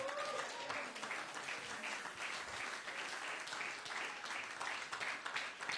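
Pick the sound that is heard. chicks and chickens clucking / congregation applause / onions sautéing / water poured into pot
congregation applause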